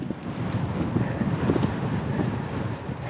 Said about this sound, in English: And into the wind!